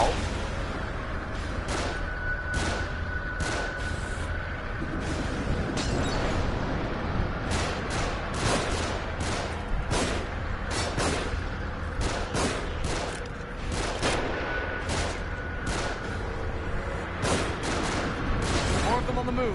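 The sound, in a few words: gunfire from enemies above, video game The Evil Within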